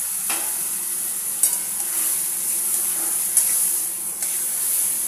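Loitta fish tipped into a pan of fried onion and spice paste, a steady hiss of frying with a few distinct stirring knocks and scrapes, close and moderately loud, no voices.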